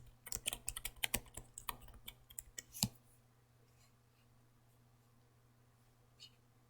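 A computer keyboard clatters in a quick burst of keystrokes during a game, then falls quiet apart from a faint click near the end.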